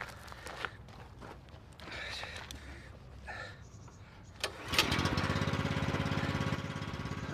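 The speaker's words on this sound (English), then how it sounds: "Will you stop fussing and get that compressor on?" Some handling noises and footsteps come first, then an air compressor is switched on and its motor kicks in with a loud, fast, rhythmic chugging that continues steadily to the end.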